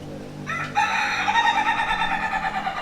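A rooster crows once, close and loud, the call rising after a brief start and holding a long, bright, slightly wavering note to the end over a low background murmur.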